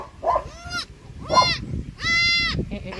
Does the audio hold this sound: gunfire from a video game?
no